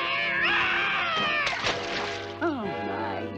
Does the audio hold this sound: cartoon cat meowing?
yes